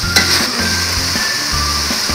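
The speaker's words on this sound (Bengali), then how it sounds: "মশলাটা খুব ভালোভাবে কষাতে হবে, যাতে মশলার কাঁচা গন্ধটা চলে যায়।" Bengali spicy chicken korma masala paste sizzling steadily in hot oil as it is sautéed, with the spatula scraping the pan at regular intervals, close and loud throughout.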